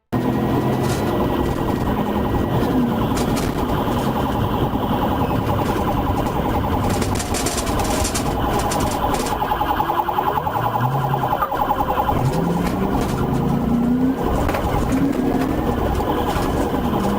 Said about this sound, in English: turned the car around and activated its emergency lights and sirens